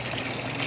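Water pours steadily from a pond filter outlet fed by a pump, a continuous close splashing trickle with no talk.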